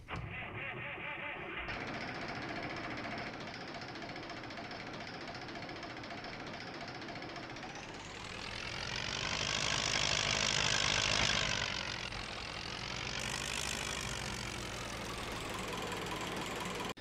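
The Hanomag tractor in Farming Simulator 19 runs loudly with a clattering, knocking mechanical engine note. It revs up to a stronger roar in the middle, then settles back to a steady running sound.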